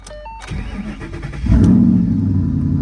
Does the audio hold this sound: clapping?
no